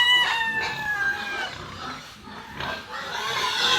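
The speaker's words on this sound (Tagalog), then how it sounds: "Maingay po yung aming baboy ni Tilat" Pigs on a farm make repeated squeals and grunting calls in short bursts, moderately close, with some background activity.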